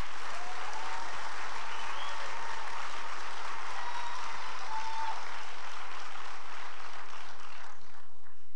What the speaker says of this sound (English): Let's all give these eminent scholars one more round of applause.